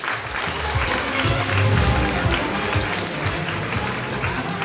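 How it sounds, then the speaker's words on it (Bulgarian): A crowd applauds at a fashion awards ceremony, a steady dense wash of clapping that holds at an even level throughout. "Аплодисменти!"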